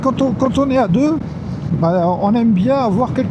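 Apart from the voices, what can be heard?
None of the usual background noises is heard.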